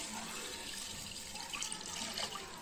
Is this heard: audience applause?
no